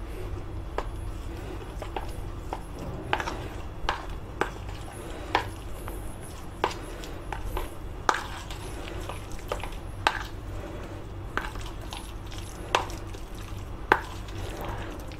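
Uttapam batter ingredients being mixed in a bowl, a string of soft, irregular taps and knocks of a spoon or whisk against the side, fairly close and fairly quiet over a low background hum.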